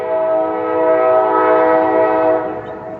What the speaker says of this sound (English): Y'all hear the train? There it goes.